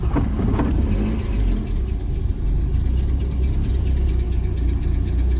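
A turbocharged Zetec engine in a Ford Capri idles unattended with no throttle, a loud steady low rumble with slight uneven pulsing and no voices.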